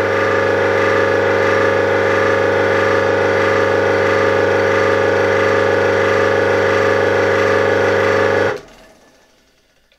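A restored 1964 BZFWr 120/78 electric motor with new bearings runs loud and close with a steady, even hum and whine for about eight seconds, then is switched off and quickly winds down to near silence.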